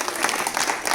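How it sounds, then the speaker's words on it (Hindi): Applause from a gathered group of people, a brief, dense burst of many hands clapping at once, loud and continuous, with a faint murmur of voices beneath. "उनके लिए जोरदार तालियां"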